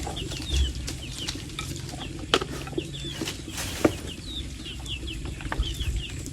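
A hen clucks outdoors at a rice field, giving short repeated calls at a moderate distance. Faint stirring and clatter sound in the background.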